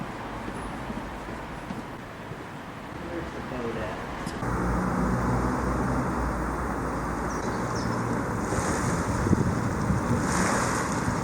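Water of the River Thames laps along the foreshore beside a moored boat at Butler's Wharf, a steady wash of small waves mixed with wind noise on the microphone, growing slightly louder midway.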